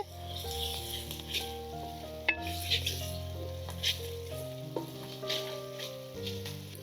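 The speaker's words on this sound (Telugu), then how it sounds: "అల్లం వెల్లుల్లి పేస్ట్ కూడా పచ్చివాసన పోయేదాకా వేయించుకోవాలి" Ginger garlic paste fries with onions in oil, a soft steady sizzle close by with occasional light utensil clinks, fairly quiet under background music-like tones, no speech.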